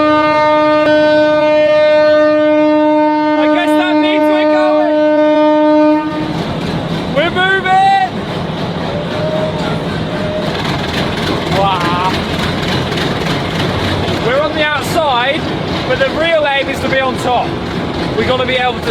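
A train moving in Bangladesh, opening with a long, loud, steady horn blast, then the rumble and clatter of the rolling carriages with more horn toots and people talking and shouting nearby.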